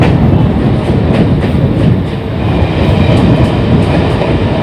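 A Howrah-Digha local train runs along the line with loud, dense rumbling and rhythmic wheel clatter, heard from on board, continuous and close throughout.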